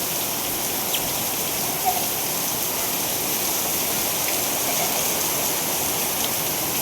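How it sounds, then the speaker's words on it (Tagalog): Heavy rain pours down steadily in a dense, unbroken hiss, close and loud throughout, with no voices and only a few faint drip-like ticks standing out. "Grabing lakas ng ulan, guys."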